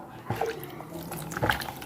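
Water poured over a small deity idol during its bath, soft splashing and trickling with a few drip-like spatters, faint and close, with a little background noise.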